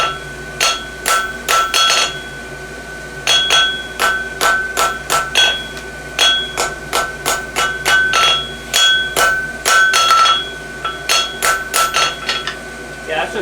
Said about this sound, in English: trying to see what more I can do on the hammer